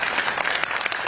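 Steady, dense clapping from an audience at a government policy briefing event in Iksan, North Jeolla, a brief, loud burst of crowd applause with no voices over it.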